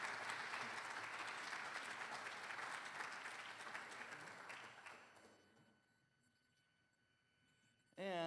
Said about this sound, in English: Another round of applause for his great job last night